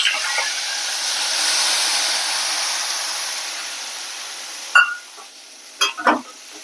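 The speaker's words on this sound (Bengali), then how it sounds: "মশলা ধোয়া জলটা দিয়ে দিচ্ছি" Water poured into a pan of frying shol fish with spices: a steady broad sizzle and hiss that gradually fades, then a few sharp clinks and scrapes near the end.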